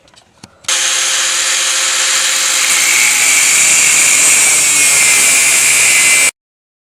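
Power tool cutting a slit into a steel bar for forging a heart-shaped plant hanger, a steady loud high-pitched whine that starts abruptly after a few brief clicks and runs continuously until it cuts off.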